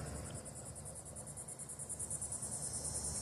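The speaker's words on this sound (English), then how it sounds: "cicadas talking to each other" Rapid, rhythmic high-pitched pulsing of cicadas droning continuously outdoors, fairly faint and steady with a soft background hum.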